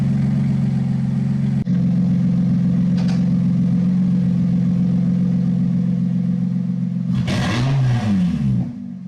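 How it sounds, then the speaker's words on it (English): A deep, loud straight-piped exhaust on a modified Lotus Evora S drones steadily at idle, then a sharp throttle blip flares up and falls away near the end. "I just barely touched on the throttle, and that was so incredibly loud."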